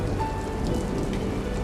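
Steady rain falling on surfaces in a village, a dense even hiss of drops with a faint tone running underneath, continuous and fairly loud with no voices.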